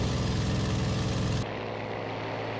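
A video game propeller airplane engine gives a continuous, loud, droning buzz that shifts abruptly to a thinner, steadier hum partway through.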